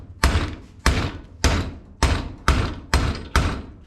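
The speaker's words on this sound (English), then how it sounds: "Put it in the vise at the point that I want it to be bent at and hitting it with a little sledgehammer." A small sledgehammer strikes a metal bar clamped in a vise, seven loud, sharp clanging blows at a steady rhythm about every half second, each ringing briefly before the next, close by with no talk.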